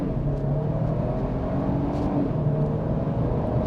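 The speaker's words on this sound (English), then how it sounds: "See how it puts the power down, off the line, on the gas." A 2025 Nissan Armada SV pulls away hard from a stop, its turbocharged engine droning steadily and close from inside the cabin, with a low road rumble running underneath.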